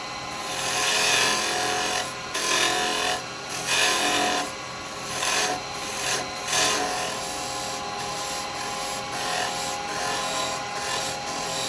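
A carbide chisel hollows out a wooden pot on a woodturning lathe, making a loud, continuous rasping scrape that surges and dips as the cut comes and goes. No one speaks.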